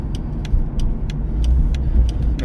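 A C5 Corvette engine and exhaust rumble low and steady inside the car, mixed with wind noise, with a few faint ticks on top and no talking.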